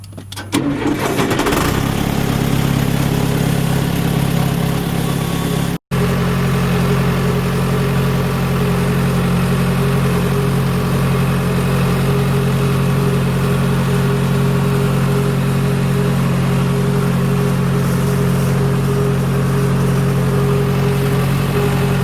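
A tractor engine cranks and catches during hay raking, then settles into a loud, steady mid-pitched idle that runs on unbroken after a brief dropout.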